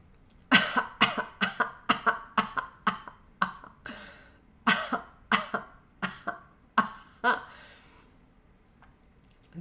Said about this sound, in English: Did you find a cough that was familiar?